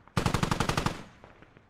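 A single close burst of about ten rapid machine-gun shots in the infantry shooter Squad, lasting under a second, then a faint trailing echo and a few distant shots.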